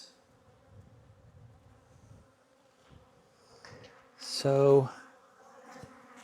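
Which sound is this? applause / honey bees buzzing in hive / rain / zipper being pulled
honey bees buzzing in hive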